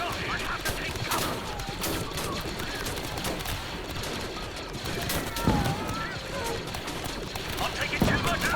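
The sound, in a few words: gunfire in Star Wars: Galaxy at War video game battle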